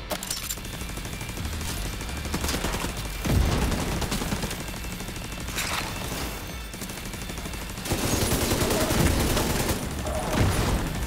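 Dense, sustained gunfire rattles through a firefight in the video game The Division 2, with overlapping bursts and loud volleys swelling around the 3- and 8-second marks, steady and close throughout.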